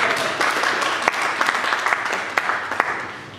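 An audience at a Toastmasters club meeting applauds in a dense, steady burst of clapping, with a few sharper individual claps standing out near the microphone.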